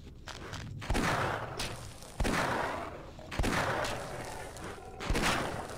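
Several sharp bursts of gunfire in the Half-Life: Blue Shift video game, arriving at roughly one-second intervals, each with a decaying echo, over quiet background sound.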